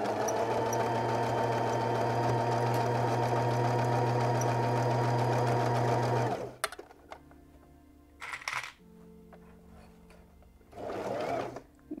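Sewing machine runs continuously while stitching a seam, a loud steady whir that stops abruptly partway through, followed by quieter handling clicks and two short bursts of stitching.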